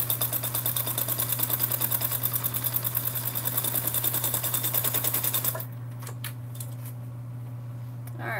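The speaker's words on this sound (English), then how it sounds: "let me top stitch this really quick" A sewing machine top stitching a summer sling bag runs in a steady rapid clatter for about five and a half seconds, then stops, leaving a faint background hum and a few soft handling clicks.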